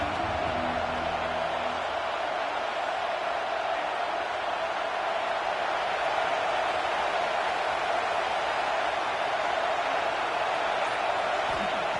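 A steady, dense roar fills a college football stadium at LSU versus Texas A&M, with the huge crowd sustaining an unbroken wash of noise throughout.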